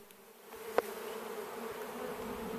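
A honeybee swarm hums steadily, close and moderately loud, with one brief sharper tap near the start over the continuous buzz as the bees are shaken from a tree back toward a hive box.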